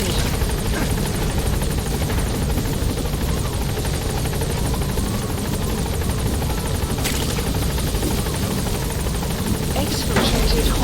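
Helicopter rotors and engine drone steadily and loudly as the aircraft takes off in the game Metal Gear Solid V, a continuous buzzing roar under occasional game voices.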